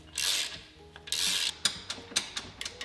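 A torque wrench clicks repeatedly while tightening pressure plate bolts during a Toyota MR2 K-swap transmission install, with ratcheting bursts early on, then a steady series of sharp, close clicks spaced roughly a third of a second apart.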